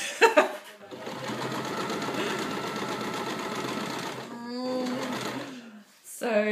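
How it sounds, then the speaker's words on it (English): A sewing machine stitches fabric in a steady close whirring run of several seconds, pausing briefly and starting again, with voices speaking around it. "So that's the gist of how we sew together."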